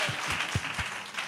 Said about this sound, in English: Can we clap it up for LaToya?